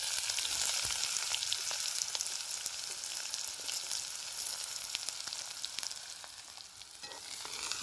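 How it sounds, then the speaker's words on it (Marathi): Mustard seeds, cumin and onion sizzle in hot oil over a wood-fired village stove, a steady bright crackling hiss with popping spits, filling the whole stretch at an even loudness with no talk. "आता ही जिरे टाकून ठेवतो बघा लगेच आपल्याला कांदा टाकून द्यायचा"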